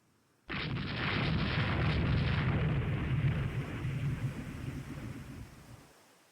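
A heavy naval bombardment in Rule the Waves 3 hits suddenly as a deep, loud blast, then rumbles and rolls on for several seconds before fading into quiet.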